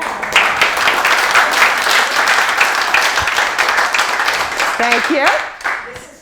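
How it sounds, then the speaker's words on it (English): An audience claps in a warm, sustained round of applause that fades toward the end, with a speaker briefly talking as it dies down. "Can we give you a round of applause for everything?"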